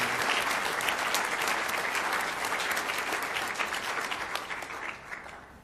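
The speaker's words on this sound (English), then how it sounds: "Okay, let's just give them a round of applause." An audience at a high-performance computing market briefing breakfast gives a sustained round of clapping for an award, a full, even burst of many hands that tapers off slightly toward the close.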